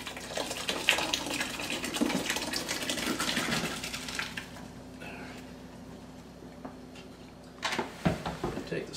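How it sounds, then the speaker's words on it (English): Mash liquid for an Irish stout is poured from a container into a vessel, a loud gushing, splashing flow for several seconds that fades, followed by a couple of clattering knocks. "So we're going to take this and pour it all in here. This is going to splash out."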